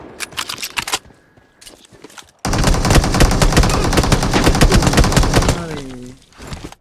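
Gunfire in the mobile game BGMI: a few scattered shots lead into a loud, sustained burst of rapid automatic fire lasting about three seconds, followed by fading game effects.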